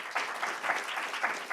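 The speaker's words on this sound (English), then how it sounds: "Let's give Dean a big round of applause" Applause from an audience at a book event, a steady close patter of many hands clapping with slight swells, heard alone without talk.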